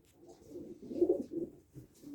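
Soft, low cooing from a female pigeon, a rolling series of throaty coos rising and falling, close by and fairly quiet.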